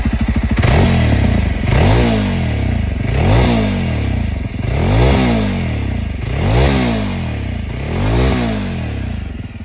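A Jawa 42 Bobber motorcycle engine revs loud and close in repeated rising bursts, roughly six throttle blips in steady rhythm over a continuous idle rumble.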